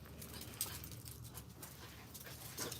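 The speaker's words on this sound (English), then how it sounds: "My dog's going crazy. There's something going on. My dog's after something." A dog whimpers and pants softly outdoors while storms approach, its faint, breathy sounds partly buried in steady background noise.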